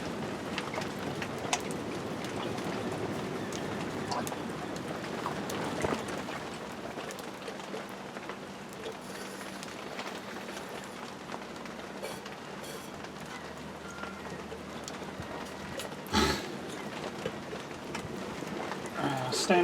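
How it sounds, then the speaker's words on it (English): Steady rain falls across a back garden, a dense continuous hiss that fills the scene throughout, with a sharp brief knock near the end and a person speaking intermittently over it. "You hear the rain again, guys?"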